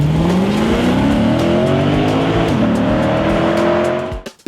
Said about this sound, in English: this thing is packing a naturally aspirated 5-litre V8